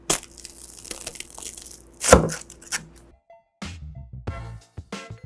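A knife crunches through a hot, crispy grilled cheese sandwich, giving a loud close crackling burst of brittle toasted bread, then a few softer crunches after a brief pause.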